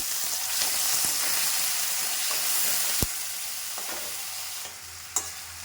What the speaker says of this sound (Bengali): এই দেখো আলুগুলো দিয়ে দিলাম আলুগুলো ছোটো ছোটো এইভাবে কেটে নিয়েছি